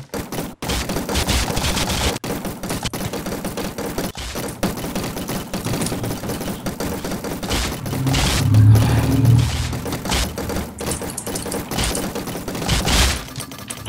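Minigun fire in Minecraft runs as a continuous dense rattle of rapid shots, loud and sustained throughout with only brief gaps, swelling slightly near the middle.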